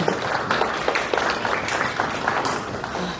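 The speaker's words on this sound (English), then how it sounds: "with a hand of applause" Audience applause at a panel discussion greets a new panelist, a moderate, steady patter of clapping hands filling the room for a few seconds with faint background murmur.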